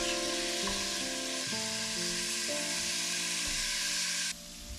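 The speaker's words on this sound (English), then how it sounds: "Stir frequently and fry to ensure the pieces are evenly seared." Pork pieces sear and fry in hot oil while being stirred, a steady loud sizzle with scraping stir strokes throughout that drops off sharply near the end.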